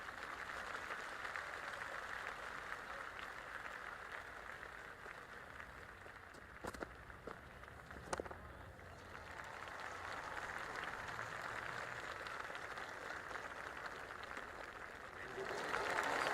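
Cricket crowd at an Ashes Test between Australia and England in Cricket 26, a steady wash of distant applause and murmur, with a couple of sharp knocks and a swell near the end, under commentary.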